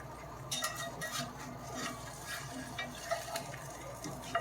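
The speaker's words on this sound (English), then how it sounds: "I flip that egg" An egg frying in a non-stick skillet, with a soft steady sizzle and a few light scraping, tapping utensil sounds as it is flipped, quiet and close.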